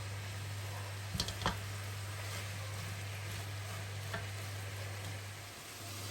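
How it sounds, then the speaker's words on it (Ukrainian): Onions fry in a pan for borscht dressing, a quiet, steady sizzle close by with a couple of soft stirring scrapes, over a low constant electrical hum. "Поки в нас піджарюється е, цибулька"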